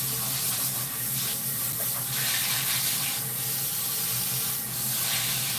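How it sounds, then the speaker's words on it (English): Tap water runs steadily into a sink while hair is rinsed during a salon colour session, a continuous close hiss with slight surges and no talking. "time to rinse out the rinse"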